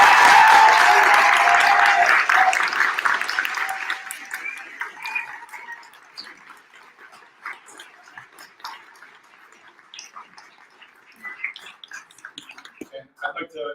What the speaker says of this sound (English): can we just give one last round of applause for the entrepreneurs?